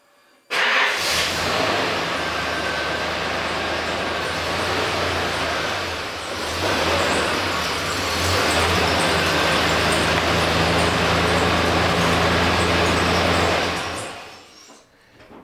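A long-wheelbase Nissan GQ Patrol Safari 4WD drives in close by, its engine rumble and road noise rising suddenly and holding steady for about fourteen seconds before cutting off.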